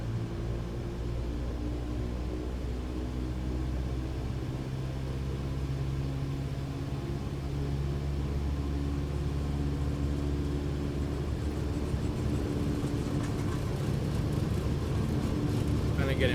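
An aircraft engine runs at full throttle in Microsoft Flight Simulator, a loud steady droning roar with a low hum that holds unbroken throughout.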